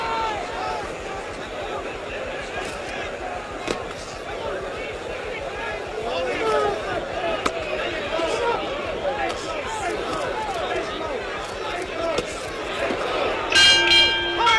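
A boxing bell ends a round in the 1976 heavyweight bout between Muhammad Ali and Ken Norton. A short metallic ring comes near the end over a constant loud crowd roar and ringside commentary.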